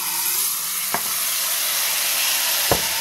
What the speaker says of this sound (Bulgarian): Ето го течния азот. И първо в тази чашка ще сипа малко от него.